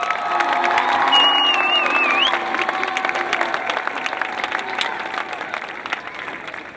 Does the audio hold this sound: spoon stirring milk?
no